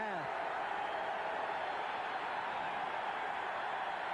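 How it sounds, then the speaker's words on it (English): A stadium crowd at a 1984 Chicago Bears at St. Louis Cardinals football game at Busch Stadium roars as one steady, dense wash of noise, loud and unbroken throughout. "The roar of the crowd."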